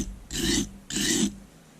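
A paring knife drawn across a whetstone in two distinct raspy strokes, each about a second long with a short pause between, close and moderately loud with no talking.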